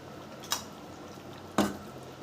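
Washed chicken is added to a pan in two wet slaps, a small one and then a heavier one about a second later, each followed by a brief squishy splash, close up with no talk.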